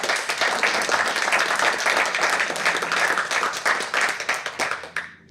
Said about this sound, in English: So let's give her a round of applause.